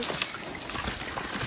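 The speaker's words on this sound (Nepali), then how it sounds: "अहिले पाइपबाट आउँदो रहेछ नि त पानी त" Water runs from a pipe into a rice field in a village, a steady broadband trickling and splashing flow, continuous and fairly close, with no talk over it.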